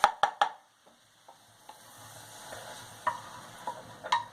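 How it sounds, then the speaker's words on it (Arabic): Calamari sautés in a frying pan with oil, starting with three quick sharp clanks of a utensil on the pan, then a quieter sizzle broken by scattered taps and scrapes, another cluster of clinks near the end. "باش نشحروا الكالامار"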